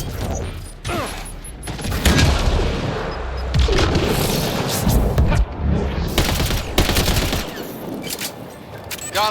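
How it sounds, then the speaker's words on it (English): Grenade explosions and bursts of gunfire in Mass Effect Andromeda combat on hardcore difficulty, heavy booms and rattling shots layered densely and loudly through the whole stretch, with brief pauses between volleys. "Watch the grenade!"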